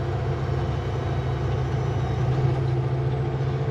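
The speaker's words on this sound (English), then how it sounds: "I am running with full engine brakes, so I have to keep that in mind on this slippery slope down." A truck runs with full engine brakes down a slippery slope, a steady, close, low droning engine hum with a throbbing undertone.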